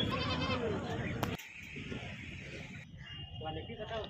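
A large male goat bleats at an outdoor livestock market held under trees in Bokaro, Jharkhand, its wavering call briefly clear at the start before crowd chatter and market noise take over.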